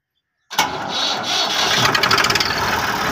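A tractor engine cranks and catches abruptly, then settles into a loud, rough, rumbling idle with rapid chugging pulses, close by, no talking.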